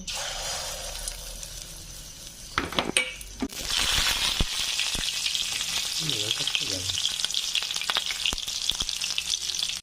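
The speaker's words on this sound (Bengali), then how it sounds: "কচুগুলো বেসনের ব্যাটারে ডুবিয়ে ভালোভাবে ভেজে নিব।" Boiled taro pieces coated in gram flour batter hit hot oil for deep-frying, a few clinks and knocks giving way to a dense, continuous bubbling sizzle that stays close and steady, with no talking.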